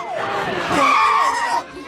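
A cartoon sports car races at full speed through an airport, with a skidding tire squeal and sweeping engine tones over busy background commotion, loud and close, rising and then cutting off near the end.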